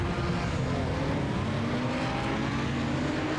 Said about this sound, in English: the pace car is rolling